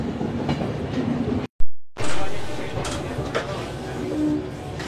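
Interior of the 22317 Sealdah–Jammu Tawi Humsafar Express as it departs Sealdah station, with steady rumbling and rattling of the carriage that cuts out briefly and resumes, voices faintly mixed in.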